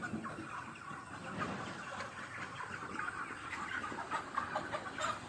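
A broiler poultry farm with about 500 birds roughly 34 days old, soft continuous clucking and murmuring from many chickens, fairly faint and steady throughout.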